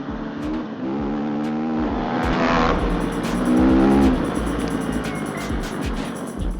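A Sherco FSE 300 dirt bike engine revs up and down close by, its throttle rising to a strained peak then easing off, with gravelly riding noise underneath.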